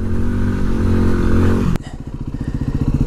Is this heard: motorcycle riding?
yes